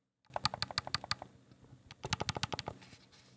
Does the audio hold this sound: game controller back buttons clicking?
yes